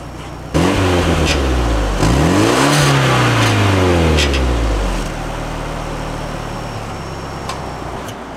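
A 1995 Nissan 200SX S14 Zenki in original condition, heard from the rear near the exhaust, revs loudly in rising and falling sweeps, then settles into a steady idle.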